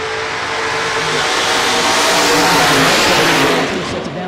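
Two drag racers launch side by side, a Camaro in the left lane and a 1971 Chevelle with a 460 engine in the right, their loud engines roaring and revving hard as they accelerate down the strip, no talk over the sound.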